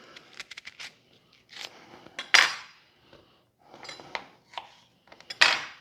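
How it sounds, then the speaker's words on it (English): A knife slices through an onion for a stew with squash, giving a series of close, crisp cuts and knocks on a board in uneven bursts, with brief pauses between strokes. "I'm going to cut just a little more."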